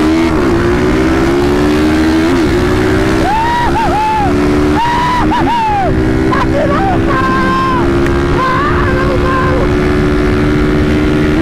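A loud Start 470 motorcycle engine drones steadily throughout, with pitch rising and swooping in a few bursts as it revs during hard acceleration, close up and continuous.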